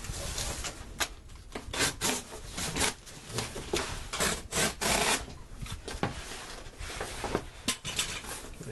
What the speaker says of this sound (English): just take and cut excess off.